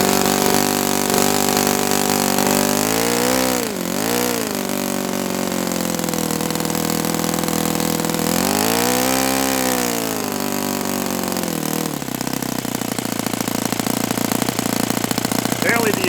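A Saito FA-91S four-stroke model engine with a suspected carburettor fault runs loudly and continuously up close, its pitch dipping and swelling twice as the throttle changes before settling into a steadier tone. Faint talk sits underneath.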